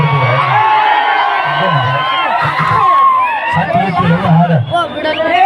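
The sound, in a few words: live audience clapping and cheering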